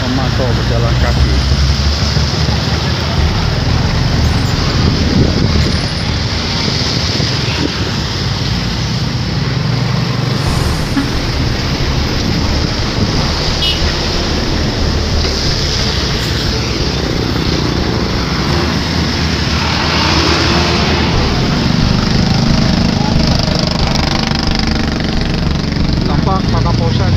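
Vehicles drive through floodwater on the Pantura road at Losarang, Indramayu, a loud, continuous rumbling engine roar that fills the whole stretch, with people talking over it.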